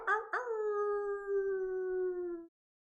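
A person imitates a wolf howl with a voice: two short rising yelps, then one long, steady, drawn-out howl lasting about two seconds, loud and close, with no other talk.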